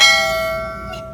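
A single bright bell ding rings out close and clear, then its tone fades away over about a second with nothing else heard.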